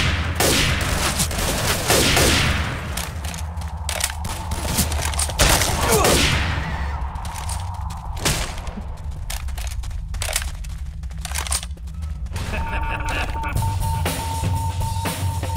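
Heavy gunfire in the zombie shooter Left 4 Dead 2 on an outdoor level: loud, dense automatic bursts and single shots crack almost nonstop, with short game voice lines mixed in.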